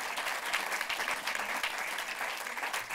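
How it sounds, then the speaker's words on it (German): Steady applause from a cinema audience welcoming a film director onto the stage, a dense, continuous wash of clapping for the full three seconds with no voices above it. "auch den Applaus halten wir durch, bis sie da ist"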